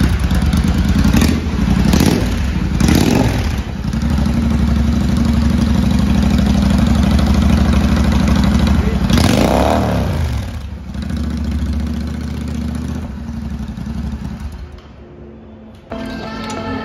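Royal Enfield Continental GT 650 twin engine idling with new aftermarket exhausts, a loud, close, steady burbling thump with a few brief throttle blips early on before it settles and dips near the end.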